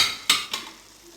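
A utensil scrapes twice in a pan of frying onion and thinly grated zucchini, giving two short, close clatters over a faint sizzle.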